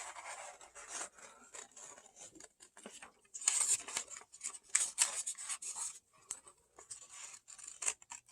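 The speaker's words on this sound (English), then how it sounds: "I'm gonna cut it out." Scissors snip through paper while a turkey shape is cut out for a kids' craft, giving a steady run of short, crisp cuts and soft rustles heard close and fairly quiet, with no talking.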